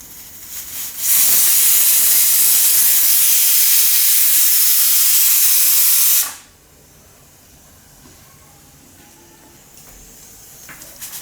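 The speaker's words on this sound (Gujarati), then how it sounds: "તો આને આપણે હવે કુકર ઉકાળી લઈએ" A pressure cooker vents steam in a home kitchen, a loud continuous hiss lasting about five seconds that then cuts off sharply, leaving quiet room noise.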